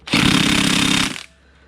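A crankshaft main bearing bolt is loosened on a 2008 Mercedes 3.0L diesel engine. A single loud, rapid hammering burst from a power tool lasts about a second, then cuts off into quiet.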